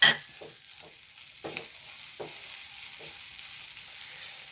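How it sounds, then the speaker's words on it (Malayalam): Grated carrot and coconut being stirred into a masala puttu mix, giving a few soft scraping, stirring strokes close by in a quiet kitchen with no talk. "ഇതും കൂടെ ഇട്ട് കൊടുക്കാം കേട്ടോ ഒന്ന് ഇളക്കി കൊടുക്കും"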